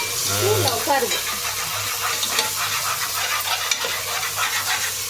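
Biryani being stirred in a cooking pot: steady scraping and sizzling of rice churned through a hot pot, continuous and close, with a brief voice near the start.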